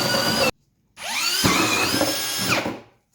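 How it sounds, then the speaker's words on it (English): A screw gun whines in bursts while driving screws through a 2x4 into the bottom of a bucket, a short run cutting off abruptly, then a longer pitch-shifting whir as the motor strains and winds down. "we're screwing this 2x4 to the bottom of the bucket, and then we'll screw it into the big pan"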